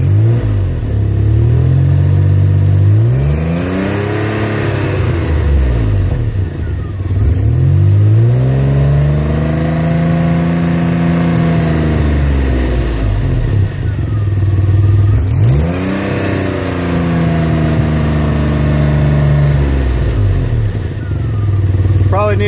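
A Peugeot 604 engine fitted with a new manifold revs repeatedly, loud and close, each rise and fall of pitch clearly audible over steady idle, with no throttle cable connected.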